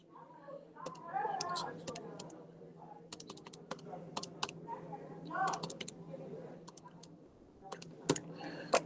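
Keys on a calculator are tapped out in a quick, uneven run of light clicks, close and fairly quiet. There is a faint background hum and a soft voice at times.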